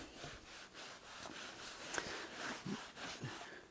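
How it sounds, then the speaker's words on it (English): Dye being rubbed by hand into a leather seat during repair makes soft, quiet scuffing strokes in an uneven rhythm, close by and without speech. "rubbing this dye, working it into the leather"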